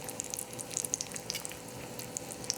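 Chicken pieces frying in hot Italian olive oil, a steady soft sizzle with scattered bright pops and crackles, close and continuous without any voices.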